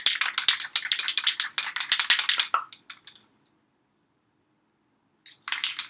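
A spray paint can is shaken hard, its mixing ball rattling in a fast, close burst of clicks for about three seconds. Silence follows, then a brief second burst of rattling.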